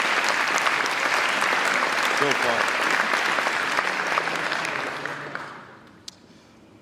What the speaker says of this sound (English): Let's give a big round of applause for Generate